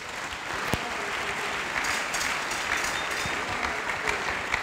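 A church congregation claps together in praise, a steady dense wash of applause that holds at an even level throughout, with no voices standing out.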